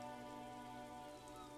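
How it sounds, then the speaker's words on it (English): Steady rain pours down across the city streets in Disco Elysium, a soft continuous patter of drops on hard surfaces with no other sounds, quiet and even throughout. "Rain falls down on the world."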